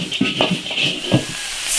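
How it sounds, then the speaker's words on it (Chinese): Meat with chili, sugar, salt and soy sauce is stir-fried over high heat in a wok: a steady, close hiss of sizzling broken by several scraping spatula strokes. "大火爆炒。"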